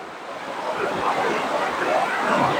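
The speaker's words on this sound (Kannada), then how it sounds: "ಹಿಂದ್ಗಡೆ ಹರಿತಾ ಇರೋ ನದಿ ಯಾವ ತರ ಕಾಣ್ತಾ ಇದೆ ಅಂತ ತೋರಿಸ್ತೀನಿ ನಿಮ್ಗೆ" Rushing mountain river water along the Gangotri–Yamunotri route, a steady broadband roar with gusty wind noise hitting the microphone, continuous and fairly loud throughout.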